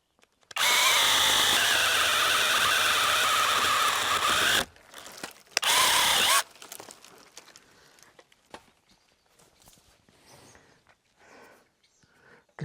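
A power saw cutting a branch while pruning a mature cherry tree: a loud, steady whine for about four seconds, a short second burst, then quieter crackles and rustling of the branch.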